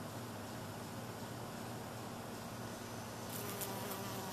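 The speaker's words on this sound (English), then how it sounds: "There's a honeybee, which is cool because there aren't that many of them" A honeybee buzzes steadily close by among garden flowers such as lilies and cardinal flower, a continuous droning hum that stays even throughout with no voices.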